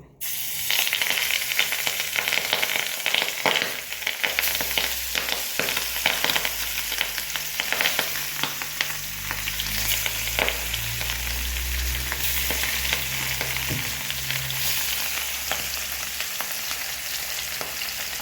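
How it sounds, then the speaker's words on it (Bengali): Fish pieces frying in hot oil in a frying pan, a loud, dense, continuous sizzle and crackle with a spit as they go in, steady and close throughout. "এখন মাছগুলি আমি একটা একটা করে আমার ফ্রাই প্যানের এই গরম তেলে দিয়ে দিব।"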